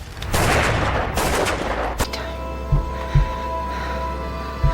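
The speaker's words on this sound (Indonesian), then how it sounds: "tiba-tiba Max menembak Ellen hingga tewas" Gunfire in a violent film scene: one sharp shot rings out over a tense music bed, then several softer thuds follow at short, uneven intervals.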